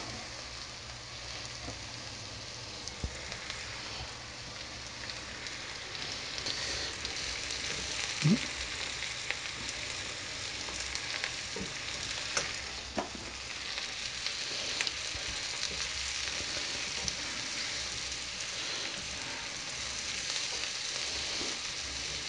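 Sliced onions and mushrooms fry in a pan for beef stroganoff, making a steady soft sizzle with occasional pops and stirring scrapes, moderately loud and close, with no talk.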